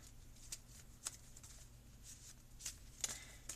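Playing cards are shuffled close by in quiet, with a few crisp riffling bursts spread over several seconds and faint background between them.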